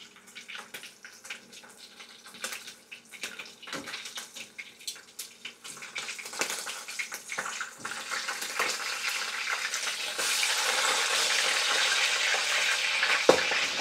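Oil crackles and spits steadily as milkfish fries, growing into a dense, loud sizzle toward the end, with scattered sharp pops throughout; no voices.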